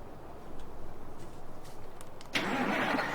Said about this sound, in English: let me get this truck out of the way.